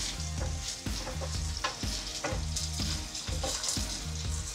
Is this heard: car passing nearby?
no